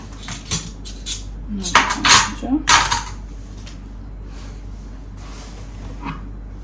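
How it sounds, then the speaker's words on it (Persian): Spoon stirring chopped walnuts into a Gilani kal kabab mixture of mashed eggplant in a bowl, giving a few close scraping and clinking bursts in the middle, with quieter rustling before and after. "گردو بهش اضافه میکنم، همش میزنم"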